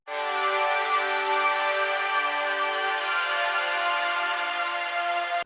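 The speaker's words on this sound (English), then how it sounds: "And I have this string sample here that I created myself." A self-made airy string sample holds one sustained, layered chord with many stacked harmonics and the lows cut away, steady and full for about five seconds before stopping abruptly, with no voices.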